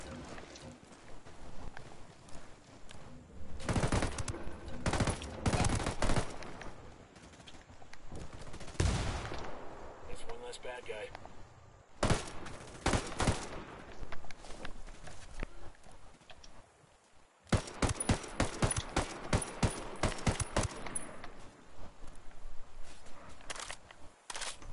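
Sniper rifle fire in Ghost Recon Wildlands crackles in loud, sharp bursts, with clusters of rapid reports separated by quieter gaps and a dense volley near the end.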